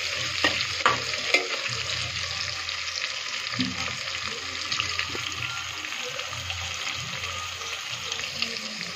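Onions frying in a pan for chicken biryani, a steady sizzle running throughout with scattered stirring scrapes and clinks, close and moderately loud, no talking.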